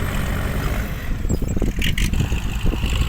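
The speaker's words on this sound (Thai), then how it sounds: "รถไถนี่ยังโหดไม่หยุดครับ" A grandfather-era farm tractor with big wheels works a muddy dump-truck site, its engine a loud, continuous low rumble with rough surging throughout.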